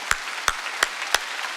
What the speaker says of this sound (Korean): 박수 치려면 세게 치라고.